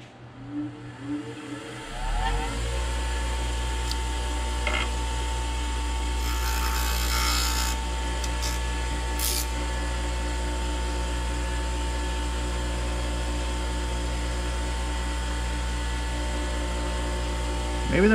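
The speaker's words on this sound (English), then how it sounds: "I'll just see how far I can get one of those screws in. It's very hard wood." Screws driven into very hard wood with a power driver, a steady loud motor drone running the whole time after a brief start, with short bursts of higher whine partway through.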